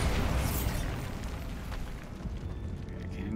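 A Bombarda blast spell goes off in the Hogwarts Legacy video game: a loud, sustained rumbling explosion with broad crackle that fades slowly over a few seconds, with no talking.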